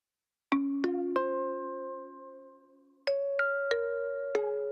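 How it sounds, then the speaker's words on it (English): Struck chime tones ring out in a song, like a wound-up music box, in two clear groups of three and four bell-like notes, each sustaining and decaying, with a short fade between them and no talk. "Makes me think of a winding up chime."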